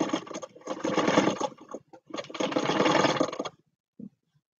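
A home sewing machine runs in two bursts of steady mechanical whirring, each lasting over a second, separated by a short pause, then stops with a single faint knock afterward.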